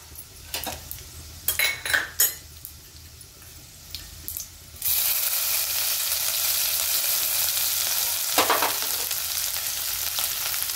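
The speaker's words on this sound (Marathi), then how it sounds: "आता आपण हिरव्या मिरचीचं वाटण टाकू।" Green chilli paste hits a pan of frying garlic with a sudden loud, continuous sizzle after several seconds of utensil clatter, then keeps hissing steadily up close with a brief stir partway through.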